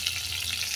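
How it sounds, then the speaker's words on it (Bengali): Whole spices and dried red chilli hit hot oil in a pan, giving a steady, bright, dense sizzle that holds evenly throughout, close and alone. "ফোড়ন দিয়ে দিলাম শুকনো লঙ্কা"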